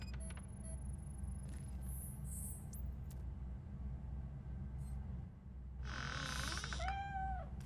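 A cat meows once near the end of a scene in the video game RoboCop: Rogue City, a clear rising-and-falling call over a steady low game ambience with scattered faint effects.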